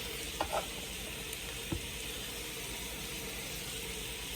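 Onions fry in a skillet with a soft, even sizzle close up, broken by a few brief clicks and scrapes of handling.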